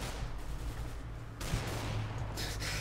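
Shotgun fire in a CS:GO Arms Race match, a few fairly faint bangs within steady gunfire and game ambience, with no talking.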